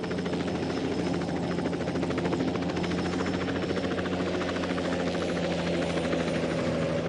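A helicopter holds a steady hover nearby, its rotor giving a continuous, even, moderately loud thrumming drone with no voices over it.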